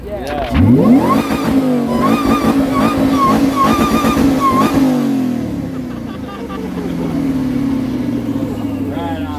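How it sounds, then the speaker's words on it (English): A car engine is revved up hard and held bouncing against the rev limiter for several seconds with a stuttering buzz, then drops back to a lower idle, close and loud. "I think some of you guys want to hear a little bit of limiter"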